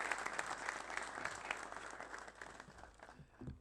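Studio audience applause on a French-language science challenge show, steady dense clapping that holds throughout and thins slightly toward the end.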